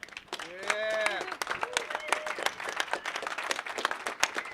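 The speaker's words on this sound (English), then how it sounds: "So as the last panel of the day, you guys, let's just give a big round of applause to Tone." An audience at a Bitcoin conference claps in a dense burst of applause. A voice speaks briefly at the start and the clapping carries on steadily after it.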